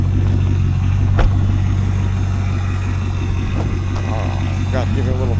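A 1999 Chevrolet Corvette C5 with its LS1 V8 rumbling steadily at a fairly loud idle, with faint throttle blips near the end and a voice talking over it.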